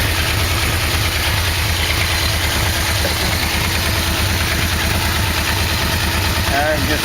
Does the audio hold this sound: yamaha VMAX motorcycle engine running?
yes